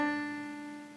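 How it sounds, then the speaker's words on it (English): Guitar hammer-on: a single picked string followed by a second note sounded by fretting alone, ringing clearly and then decaying, close and alone. "A hammer-on sounds like this."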